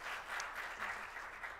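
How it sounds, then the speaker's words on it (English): A marketing conference audience in Dubai gives a round of applause, a steady wash of many hands clapping at once, moderately distant and without talk. "let's give yourself a round of applause"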